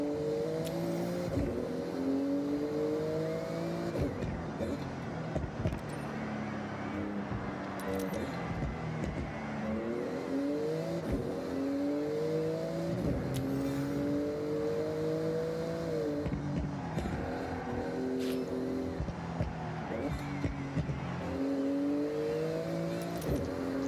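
Engine in Forza Horizon 6, a car praised for its handling, revs up and down through repeated gear shifts with tire noise while driving, loud and continuous throughout.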